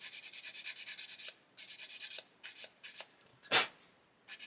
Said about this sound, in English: So we can just come along and sand that away